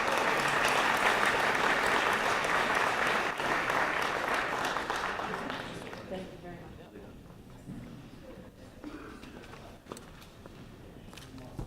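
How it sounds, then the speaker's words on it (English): Applause at a chamber of commerce awards banquet for the Swinging Hawks, a full room clapping loudly for about five seconds before fading into scattered claps, clatter and murmured talk. "give a round of applause to the Swinging Hawks"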